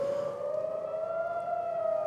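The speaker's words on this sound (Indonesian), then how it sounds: "di Yerusalem, sirene berbunyi saat rudal dicegat sistem pertahanan Israel pada Selasa dini hari waktu setempat" An air raid siren wails in Jerusalem during a missile interception, a single sustained tone that rises slowly in pitch and stays steady and prominent, with no voices over it.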